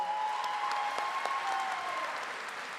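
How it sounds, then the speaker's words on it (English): A crowd at the John Marshall High School 2022 graduation ceremony applauds a singer, with a broad wash of clapping and a thin sustained tone running underneath that fades slightly toward the end. "How about one more round of applause for Ava?"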